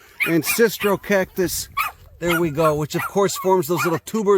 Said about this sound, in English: pardon the barking. We got a posse of chihuahuas here.